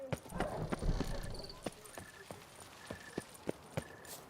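Horse hooves clip-clop in an irregular trotting rhythm as a rider moves through The Witcher 3. Distinct, fairly close thuds ring out alongside faint game sounds, and a voice speaks over them.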